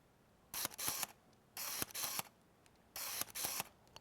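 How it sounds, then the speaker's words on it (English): A Canon 50mm f1.8 II lens autofocusing, hunting toward infinity in three separate bursts of quiet mechanical whirring and buzzing, each about half a second long with brief pauses in between. "it's really quite loud. It's just focusing on infinity and trying to find its own focus right here"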